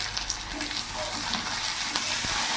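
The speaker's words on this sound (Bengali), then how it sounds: "এবার এখানে আমি একটা বড় সাইজের টমেটো কুচি দিয়ে দিলাম" Chopped tomato goes into onions already frying in a pan, raising a steady, close hiss and sizzle that runs unbroken with faint stirring scrapes.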